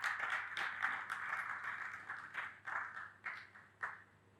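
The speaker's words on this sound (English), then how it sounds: "Let's give him a round of applause for those of us in-house" Faint applause from a small in-house audience at a logistics and commerce talk, scattered hands clapping at a distance that thin out into separate claps toward the end.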